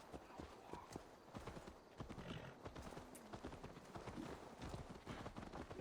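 Horse hooves clip-clop in a fast, steady galloping rhythm, close and fairly loud, with an occasional whinny over a busy soundscape from the game Assassin's Creed Valhalla.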